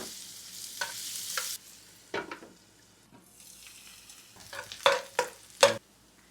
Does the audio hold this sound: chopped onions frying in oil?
yes